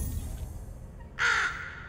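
A single loud crow caw from the puzzle video game The Room 3, harsh and close, following a stretch of quiet background tone with no speech.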